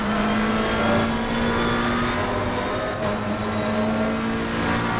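A McLaren race car engine in Assetto Corsa Competizione holds a steady, loud drone with a sustained tonal whine, faintly shifting pitch as it runs through a corner.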